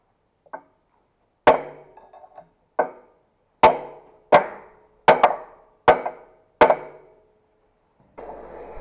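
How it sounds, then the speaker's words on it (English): Sharp metallic hammer strikes on a stuck delimbing knife of a Valmet 365 harvester head ring out one after another, about eight blows at an uneven pace, close and loud with brief ringing decay. "it took a whole lot of hammering to start getting this to move"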